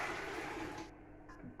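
Water poured from one vessel into a container in a kitchen while making blackberry pontack sauce, a steady broadband splash for under a second that then thins to a faint trickle.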